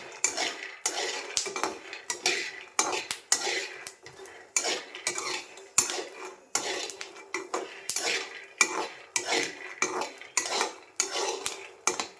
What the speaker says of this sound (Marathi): फुटाणे चांगले रोस्ट झालेले आहे. कसा आवाज येतोय, याला व्यवस्थित आपण काढून घेऊया.